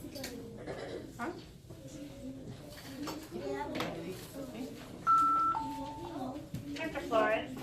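Keypad tones from a participant's phone sound during a group phone lesson: a few steady electronic beeps of different pitches rise over ongoing background talk from several people.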